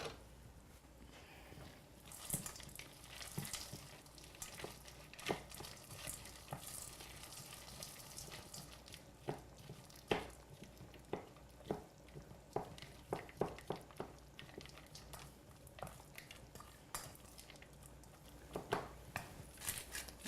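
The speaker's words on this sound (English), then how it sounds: "I'm going to stir this up." Fettuccine stirred in a pan with squash, frozen corn, chopped chives and zest, giving soft scraping and scattered wet clicks and patter at low, steady volume with no talking.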